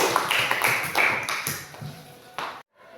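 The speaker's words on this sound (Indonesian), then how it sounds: "Berikan aplaus dulu untuk adiknya" Applause in a classroom, with a quick burst of scattered clapping from students that thins out and stops abruptly after a couple of seconds.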